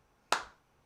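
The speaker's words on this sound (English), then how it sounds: "Great time for a slow clap." A single sharp hand clap rings out in a quiet room, decaying quickly, a slow clap at an event.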